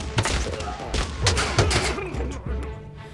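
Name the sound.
double-barrel shotgun fire in a video game battle simulator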